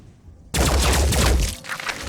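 A single loud burst of gunfire in the Phoenix Point video game, aimed at an alien egg. It starts abruptly after a quiet moment and rings out for about a second before fading into low game ambience.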